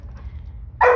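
A dog gives a single sharp bark at the very end, loud and close, after near-silent low room hum during dog obedience training.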